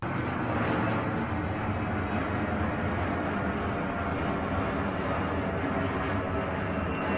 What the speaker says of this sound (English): And bringing up the rear is the Boeing 757.